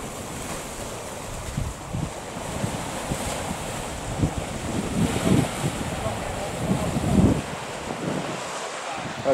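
Ocean waves surge and wash onto a shore under gusty wind buffeting the microphone, a rough continuous roar with a few stronger breaking swells; a voice speaks briefly.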